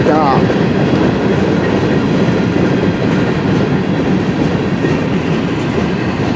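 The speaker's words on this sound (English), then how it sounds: "That's a big train." CN M399, a westbound freight train, rolls past in Port Huron, Michigan, a loud, continuous rumble with rhythmic wheel clatter filling the whole stretch at close range.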